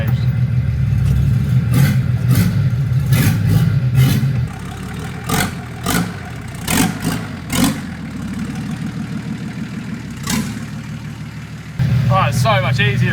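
A car with a rear-mounted start battery drives slowly back into a shed under its own power, its engine idling and rumbling at low revs with some revving and knocks, while someone talks over it.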